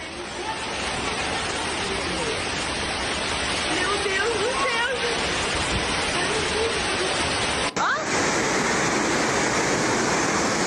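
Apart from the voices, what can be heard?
heavy rain pouring in a played news video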